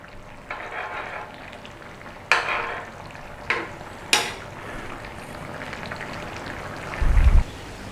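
Rice gets a single stir in a cast iron paella pan for Valencian chicken paella, with scraping strokes and a few sharp clinks of the utensil over a steady sizzling simmer.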